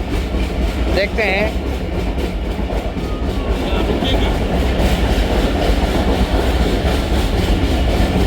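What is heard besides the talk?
Mehran Express train passing on loop line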